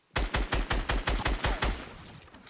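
Tommy gun fire in Fortnite Battle Royale: about eight evenly spaced, punchy shots in a quick steady rhythm, loud and close, followed by a fading echo tail with no voices.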